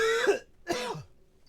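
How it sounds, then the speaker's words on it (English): Two harsh throat-clearing coughs from a man with chest congestion, close and fairly loud, spaced about half a second apart and followed by quiet. "Again, I apologize for the coughing."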